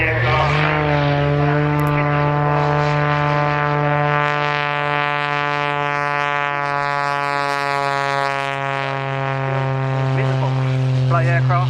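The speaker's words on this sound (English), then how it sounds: "Display aircraft, especially in the hands of someone like Rich Goodwin" A display aircraft at the RAF Cosford Airshow 2023, a loud sustained propeller engine drone with a strong steady hum and rising overtones, close and continuous, with a voice faintly beneath it.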